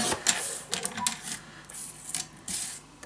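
Scissors or a paper trimmer cutting half-inch strips of paper for a handmade mini album, heard as a series of short, close, crisp rasping cuts with brief pauses between them.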